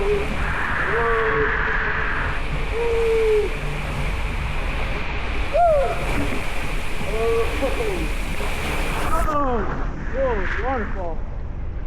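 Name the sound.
waterfall splashing at a waterslide park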